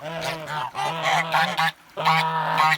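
Kholmogory geese on the water give loud, close, repeated honks in quick bursts, with one short pause partway through.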